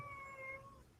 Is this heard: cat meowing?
yes